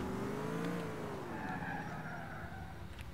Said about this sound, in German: Ich fahre jetzt einfach mal hier in diesen Park rein.